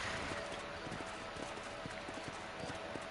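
A horse gallops in the Red Dead Redemption video game, its hooves beating a quiet, steady rapid clip-clop over a faint background hiss, with no talk.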